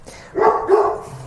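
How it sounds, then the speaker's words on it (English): A dog barks twice in quick succession, close and fairly loud, with no talking. "I'm sorry guys about the dog, it's barking"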